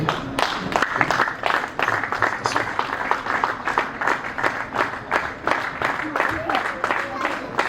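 An audience at an exhibition event claps warmly for a painter who travelled from Qatar, a dense, sustained round of applause close by with a voice speaking over it.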